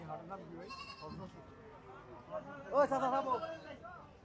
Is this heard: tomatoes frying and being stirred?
no